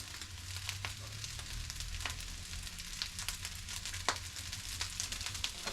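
Rice frying in oil in a pan for Samoan fried rice, a steady close sizzle with scattered sharp pops and crackles over a low background hum.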